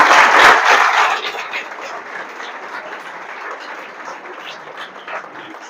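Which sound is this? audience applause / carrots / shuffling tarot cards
audience applause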